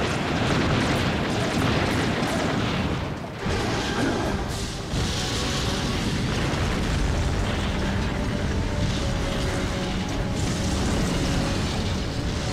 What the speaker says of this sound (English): Oh, wait, here come the missiles.